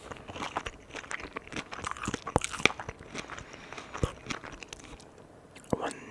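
Crisp, close bites and crunchy chewing on fried shrimp sushi with the tail left on, irregular crackles spread across the clip, some sharper snaps among softer mouth sounds and faint whispering.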